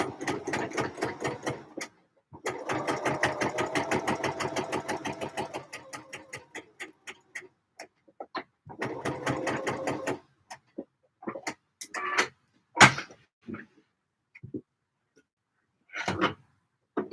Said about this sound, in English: Sew in my box pleat, because that's what I've got to do next